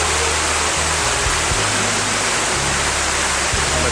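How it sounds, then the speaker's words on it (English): A waterfall pours down a ravine on university grounds, producing a steady, loud, close rushing roar that holds without a break. "An attractive waterfall flow down the ravine here."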